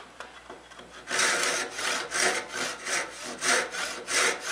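A hand saw cutting a tenon in wood, steady rhythmic rasping strokes after a quiet start, close and loud with no talking.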